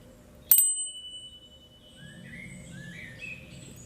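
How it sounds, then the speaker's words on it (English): A small handheld bell is struck once, giving a sharp, bright ring that hangs and fades over about a second in a quiet indoor room, followed by faint background rustling. "I'm going to ring this bell."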